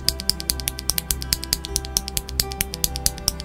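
Rapid clicky keystrokes from a mechanical keyboard using frankenswitches built from Otemu Blue clear-top housings with cream stems, a steady rhythmic run of sharp taps with a deeper-toned body, close and alone.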